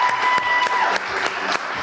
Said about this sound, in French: Et on applaudit très très fort Swazik